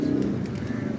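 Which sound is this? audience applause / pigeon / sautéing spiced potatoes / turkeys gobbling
pigeon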